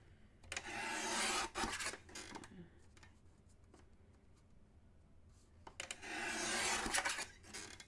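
Cardstock being trimmed for a handmade card, heard as two close, scraping swipes of a paper trimmer blade drawn along the sheet, separated by quieter rustles and small taps.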